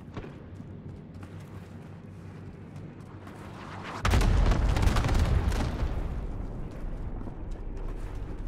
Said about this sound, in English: Incoming bombing run.